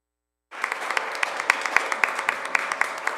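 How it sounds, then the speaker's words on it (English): A room of people at a school board meeting breaks into applause, a sudden onset of steady, dense clapping with a few sharper claps standing out, moderately loud and sustained. "I would ask that you all join me in just giving them a round of applause"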